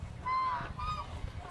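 Turkeys on a Philippine farm give short honking calls, a couple of nasal, wavering notes heard close over low background rumble.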